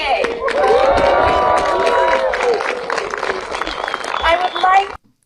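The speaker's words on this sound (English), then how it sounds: "Let's just raise our hands and clap for this day." A crowd cheers and claps outdoors at the formal opening of the Canadian consulate in Nuuk, Greenland, with shouts and whoops over steady clapping for about five seconds before cutting off abruptly.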